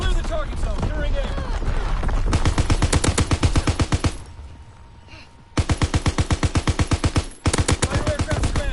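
Rapid automatic gunfire in a PS4 military shooter, long machine-gun bursts of sharp evenly spaced shots, loud and close, broken by a short lull, with a voice talking partly underneath.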